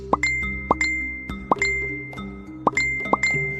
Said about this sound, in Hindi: उसके फोन पर लगातार 4-5 बार नोटिफिकेशन वाली घंटी बजी